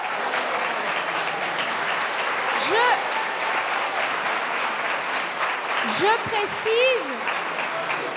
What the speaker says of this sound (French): puis on a le droit de les applaudir